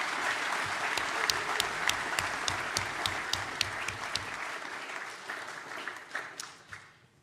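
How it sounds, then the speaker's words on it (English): Graduates at a college ceremony give themselves a round of applause. Crisp clapping with some cheers is heard throughout, then thins and dies away toward the end. "I think that you should give yourself another round of applause"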